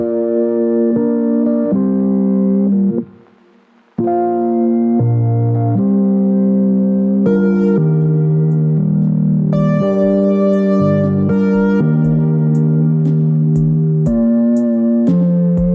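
A melodic electronic beat plays steadily with layered synth chords and bass, pausing briefly near the start before continuing, with hi-hat ticks later on.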